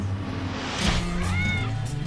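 Domestic cat meowing, a single drawn-out rising and falling meow, close and clear over a low steady hum of background noise.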